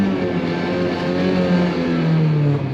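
A rental car driven on a race track in Japan, its engine droning loudly and steadily under acceleration from inside the cabin, with no talk over it.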